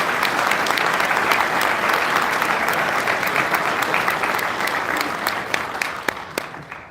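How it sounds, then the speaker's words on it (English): An audience applauds guests at a live symposium, close and full-bodied clapping that runs steadily before thinning into a few last claps. "Guys, round of applause for our guests."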